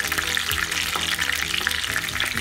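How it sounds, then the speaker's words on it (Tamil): Slit brinjal sautéing in hot oil in a pan while cooking biryani brinjal masala, with a dense, continuous close sizzle and occasional stirring scrapes and no voices. "ஒரு 3 நிமிஷம் நல்லா வதங்கினா போதும்"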